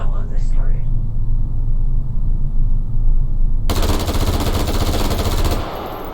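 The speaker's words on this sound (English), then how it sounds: "do something that no standard civilian AR-15 can do, and just go full auto on this target." An AR-15 rifle fires full auto at a target, a loud sustained burst of rapid gunfire cutting in abruptly after a stretch of low rumble, then stopping sharply.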